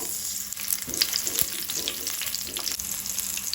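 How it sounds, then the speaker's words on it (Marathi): Mustard seeds, cumin and green chillies fry in hot oil for a Goan cabbage bhaji, giving a steady close sizzle with scattered small pops and crackles. "तेल तापले तशें तातूंत हांव अर्दो चमचो सासवां घालता, अर्दो चमचो तातूंत हांव जिरे घालता, 2 हरवे मिरसांगो"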